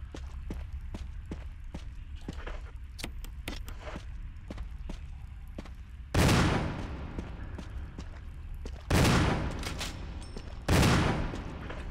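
Three heavy shotgun blasts from the Resident Evil remake ring out over quiet ambient game sounds and footsteps, spaced a few seconds apart.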